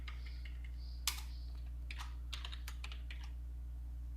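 Quiet keystrokes clatter on a computer keyboard, with one sharper tap near the start followed by scattered clicks and short bursts of typing over a steady low hum.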